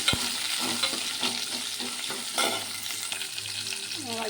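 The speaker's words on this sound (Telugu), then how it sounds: "ఆనియన్, అలాగే కరివేపాకు, అలాగే అందులో కొంచెం ఎండుమిర్చి వేసుకొని బాగా ఫ్రై చేసుకోవాలి." Onion, curry leaves and dried red chillies fry in hot oil for gongura mutton curry, a constant close sizzle broken by repeated stirring scrapes, with a low hum in the background.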